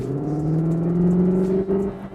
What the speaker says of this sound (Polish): to nie jest całkiem dźwięk z wydechu, tylko to jest dodatkowy e, taki dźwięk z głośników kupry